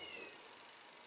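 A cat shut outside a room gives a faint, muffled meow, heard briefly at the start and then fading into quiet room noise.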